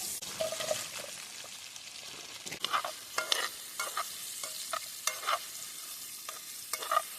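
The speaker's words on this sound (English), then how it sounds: "So I'm gonna get the garlic spread sizzling." Steady sizzling and frying of garlic spread in a pan at a campsite, with occasional stirring scrapes and clinks standing out over the constant hiss. No one speaks.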